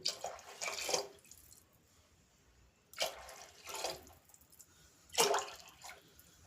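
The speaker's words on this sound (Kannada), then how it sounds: "ಇವಾಗ ನಾನು 2 ಲೋಟ ಅಕ್ಕಿಗೆ ನಾನು 4 ಲೋಟ ನೀರನ್ನು ಹಾಕ್ಕೊಳ್ತಾ ಇದ್ದೀನಿ" Water poured from a cup onto two cups of rice for a sprouted horse gram pulao, three separate splashing pours with quiet gaps between, close and fairly loud.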